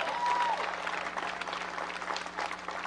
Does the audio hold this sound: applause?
yes